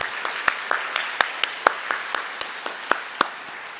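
A church congregation gives a slow, scattered round of applause, individual sharp claps spaced out and fairly close, with no voices over them.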